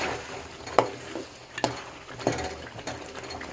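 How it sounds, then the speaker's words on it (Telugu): Stuffed eggplants fry in a pan for a village-style gutti vankaya curry, with a low sizzle broken by several sharp scraping strokes as a spoon stirs them. "వంకాయలు వేస్తున్నాను. ఇలా వేసుకోవాలి."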